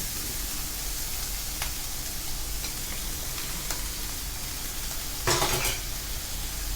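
Sugar peas and carrots stir-fry with minced pork in a hot pan, giving a steady, loud sizzle. A short scrape of a utensil against the pan comes near the end.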